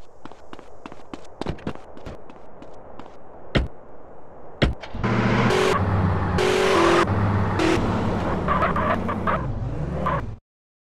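A car pulls away in GTA San Andreas, its engine rising into a loud sustained roar after a few sharp thuds and footstep-like hits, with shifting revs until it abruptly cuts off.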